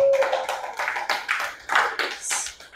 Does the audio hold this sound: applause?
yes